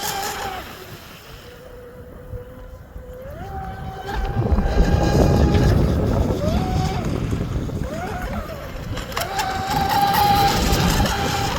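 An Oxidean Dominator RC boat on a 4S battery with a ZTW 200A controller and SSS 4074 motor runs on water, its electric motor whining up and down in pitch as throttle is blipped, under steady wind noise.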